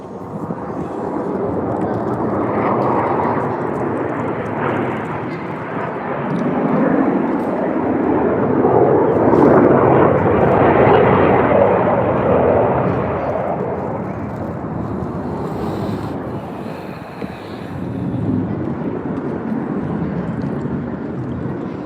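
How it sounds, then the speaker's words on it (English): Blue Angels jet aircraft fly at an air show, a broad rushing roar that swells to a peak mid-stretch and then tapers, heard from a distance in open air without talk. "This is a lot more fun when there's all 6 aircraft, but this will be fun to watch also."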